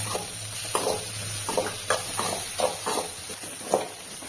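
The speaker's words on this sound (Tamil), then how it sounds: "அதையும் சேர்த்து நம்ம நல்லா வதக்கிக்கலாம்." Soft sizzling of onion and tomato sautéing in a pan, with a series of stirring scrapes roughly every half second and a steady frying hiss underneath.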